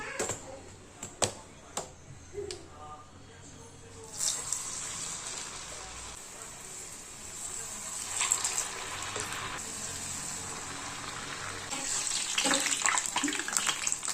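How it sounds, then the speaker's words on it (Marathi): Traditional urad dal vadas dropped into hot oil in a home kitchen, the frying starting as a few soft splashes and then swelling into a steady, bright sizzle that grows louder toward the end. "गोल असा वडा तयार करून घ्यायचा आहे आणि हळूच तेलात सोडायचं आहे"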